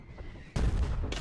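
Artillery firing in Foxhole, a single loud blast bursting in after a quieter moment, followed by a rumbling tail, no talk.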